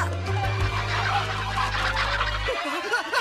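Cartoon chickens cluck and squawk in an animated space-chicken episode, a warbling fowl chatter over a dense, noisy background with a steady low hum that cuts out near the end.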